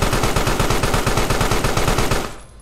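Rapid machine-gun fire from the video game Carrion, a dense, loud, steady stream of shots that runs for about two seconds and then tails off into quiet.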